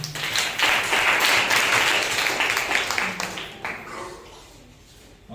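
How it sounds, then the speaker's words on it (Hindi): Church congregation at a Sunday Christmas service applauding together, a dense wash of clapping that holds strong for about three seconds, then thins and fades out. "परमेश्वर के लिए जोरदार तालियां हो जाए"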